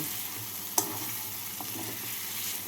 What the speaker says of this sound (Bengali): এবার এর মধ্যে দিয়ে দিচ্ছি ভেজে রাখা আলু আলুটাকে নাড়াচাড়া করে নেব